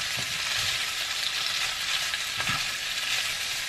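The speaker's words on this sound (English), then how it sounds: "So this is the noodles. Just gonna add and just like turn it around, mixing it again." Noodles for Mauritian mine frire, a chow mein style dish, stir-fried in a pan, giving a dense continuous hiss of frying with a couple of faint low stirring knocks, close and steady, no voices.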